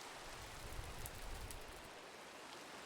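Steady hiss of rain in the Sevtech Ages Minecraft modpack, an even wash of falling water holding at a constant moderate level throughout with no voices over it.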